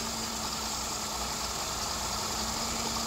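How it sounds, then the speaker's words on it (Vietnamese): A 2009 Mercedes E300 engine idling smoothly, giving a steady, even hum with no variation over the few seconds, heard close up and alone. "Máy lổ êm ru. Máy lổ im đét luôn ạ các bạn, im đét luôn ấy."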